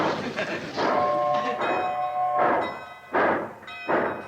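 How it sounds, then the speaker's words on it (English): A steam locomotive pulling out of a station lets off repeated whistle blasts in uneven bursts, with rumbling train noise between them, fairly close and loud. "Who's blowing that locomotive whistle?"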